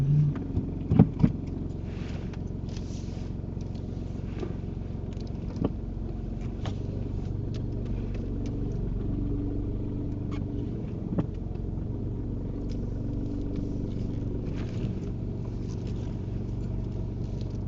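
A car rolls along steadily during a driving lesson, heard as a low, continuous engine and road rumble from inside the cabin, with faint bumps and no clear speech.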